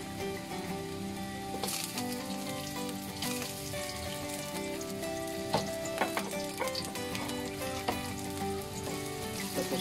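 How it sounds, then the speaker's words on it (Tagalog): Chopped onions frying in a pan with ginger for sinigang na inihaw na manok, a dense, crackling sizzle up close with occasional clinks and scrapes of stirring. "lagay natin yung sibuyas"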